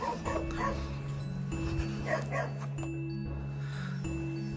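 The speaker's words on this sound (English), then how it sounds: "You can hear a little doggy there barking." A small dog barks and yips inside a house in New Road, Melksham, heard through a canopy porch entrance: a run of short, fairly close barks over a steady background hum.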